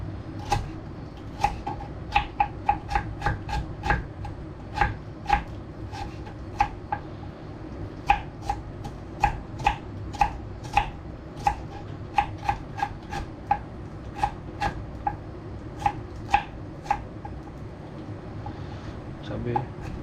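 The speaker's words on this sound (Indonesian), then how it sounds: "Kita iris bawang merah." A knife slices through shallots on a cutting board, a long run of crisp, evenly spaced chops at a steady, brisk rhythm over a low room hum, close and fairly quiet.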